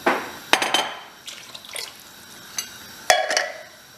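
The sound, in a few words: water added to a curry pan, coming to the boil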